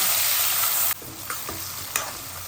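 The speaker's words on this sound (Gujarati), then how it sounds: "અને આને તેલમાં સતળાવા દઈએ" Onions sizzle and crackle in hot oil with turmeric, a loud frying hiss that drops as they are stirred, with a few scrapes of a utensil.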